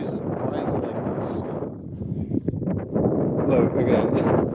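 Strong wind buffeting a microphone outdoors, a loud continuous rumbling roar with gusts, and a voice talking through it.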